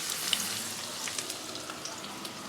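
Corn pakoras frying in hot oil, a bright continuous sizzle with small crackling pops spread evenly throughout, close and steady with no talking.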